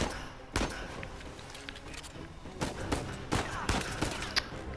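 Gunfire in Uncharted 4, with scattered sharp shots and short bursts at irregular intervals over quieter background game sound.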